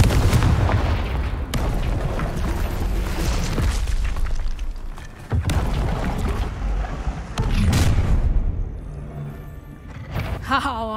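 Repeated Confringo fire spell blasts in Hogwarts Legacy, a string of heavy booms and crackling bursts arriving in several waves, with brief gaps between them and sharp sparkling effects near the end.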